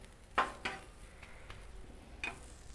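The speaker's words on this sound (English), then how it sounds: "I'm gonna take my spatula and I'm gonna smash down this Beyond Burger." A spatula presses a Beyond Burger down on a hot Blackstone griddle, giving a few sharp scraping smacks over a low sizzle, with two clustered hits early and another near the end.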